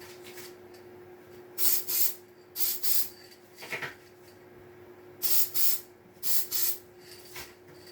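Short paired bursts of cleaner spray hiss onto silk flower arrangements, four quick double sprays spaced apart, close and crisp against a quiet room hum.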